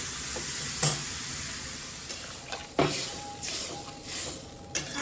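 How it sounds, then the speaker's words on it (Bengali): Frying masala in a pan fizzes with a broad steady sizzle as water goes in, joined by a few sharp clinks and stirring scrapes, close and without speech. "এবার আমি জল দিয়ে দেবো।"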